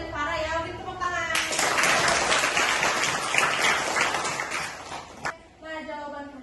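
A classroom of students bursts into loud, steady clapping for about four seconds after a teacher's prompt, with speech heard before and after the applause.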